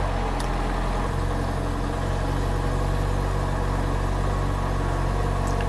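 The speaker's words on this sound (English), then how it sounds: "Idle test. Well, I guess I'll start it." Kia car engine running at a steady idle during a recall idle test, a constant low hum and rumble heard close up with no talking.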